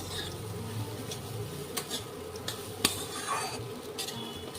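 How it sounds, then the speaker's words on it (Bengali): Gram flour being dry-fried and stirred in a pan until crisp, a steady scraping and sizzling texture with scattered sharp spatula clicks, no talking. "গুঁড়োটাকে দিয়ে দিচ্ছি। ততক্ষণ ভাজতে হবে যতক্ষণের মতো হয়ে যায়, মানে একটু মুচমুচে হবে আর কি।"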